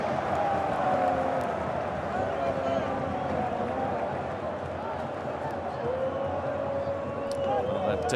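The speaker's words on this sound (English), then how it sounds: "That cheer you heard go up was for a second Welsh goal" A football stadium crowd roars in a sustained, distant cheer for a second Welsh goal against Switzerland, a dense wash of voices running steadily throughout with a commentator's voice faintly beneath.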